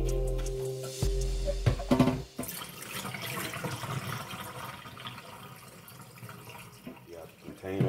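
Tap water runs and splashes into a container while sea moss is rinsed and cleaned, with handling knocks early on, then a softer steady trickle through the rest.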